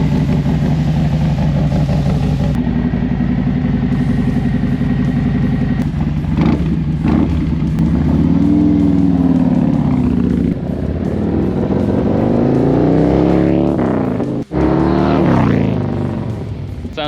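A Harley-Davidson Dyna motorcycle engine fitted with lumpy cams, loud and close, idling with a choppy lope before being revved up and down in repeated surges, with a sudden brief cut near the end.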